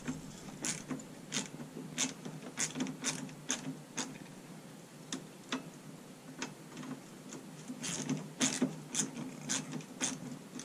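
A wrench spins a bolt off with quick, light metallic ratcheting clicks in irregular bursts, fairly close but quiet, with no talking.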